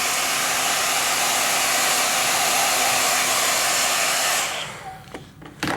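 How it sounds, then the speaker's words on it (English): A hair dryer blows air onto the coil walls of a clay vase, a loud steady rushing whoosh that runs for over four seconds and then cuts off, leaving a few faint handling sounds. "that little bit of blow drying has created a little skin on the outside surface of the coil walls"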